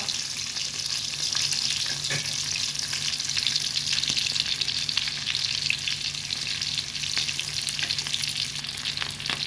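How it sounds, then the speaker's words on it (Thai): Mackerel frying in hot oil gives a steady, dense sizzle with faint crackles and pops, continuous and close, with no voices. "อันนี้เป็นปลานะคะที่ทอดนะคะ กำลังทอดอยู่ค่ะเพื่อนๆทอดไปสักพักแล้วนะคะ"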